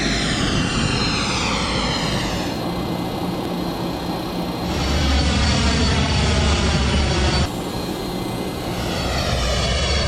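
A Continental Airlines airliner takes off in heavy snow, its jet engines roaring loudly and steadily throughout with no voices.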